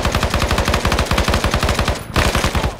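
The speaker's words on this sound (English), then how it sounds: "Ben, shoot a burst." A long, rapid burst of video-game machine gun fire, loud and close, with evenly spaced shots in a steady rhythm and a brief gap near the end before firing resumes.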